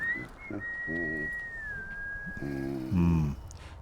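A long, steady human whistle from the Dishonored 2 video game, one sustained note wavering slightly, over soft low tonal ambience with short murmurs, fairly quiet.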